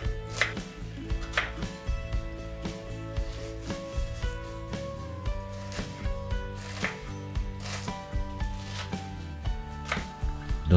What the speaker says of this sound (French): Nous allons tout d'abord préparer les oignons en les coupant en petits cubes.